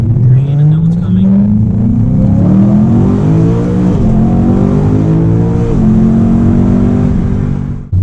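BMW M3 V8 pulling hard from a green light on a quiet street, heard from inside the car: a loud, rising engine note climbing through the revs, with a couple of quick gear shifts interrupting the sweep before it eases off.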